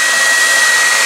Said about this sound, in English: So the blow dryer finds the water.